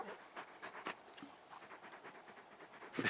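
A large dog in the Final Fantasy XVI video game panting, with quick soft breaths repeating steadily and faintly close by, followed by a brief louder bump at the end.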